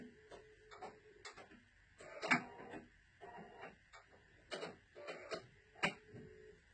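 A home sewing machine stitches a fabric potholder, giving quick bursts of close, even mechanical ticking. The bursts start and stop between short pauses as the seam is backstitched.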